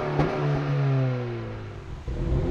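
Dual exhausts of an Acura Integra and a Honda Civic Si sharing the same engine rev up and fall back outdoors, a loud, rising engine note with a steady tone that settles toward idle, with no talking.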